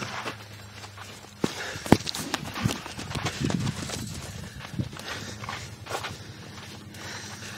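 A horse walks with steady, even clip-clop hoofbeats, close by and clear, amid some outdoor movement and faint background noise.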